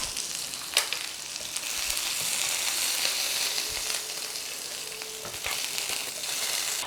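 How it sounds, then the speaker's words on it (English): Fish frying in a pan with sea salt as it is lightly stir-fried, a steady close sizzle with a few sharp clicks of utensils, no voices. "It just slightly stir fry and take it."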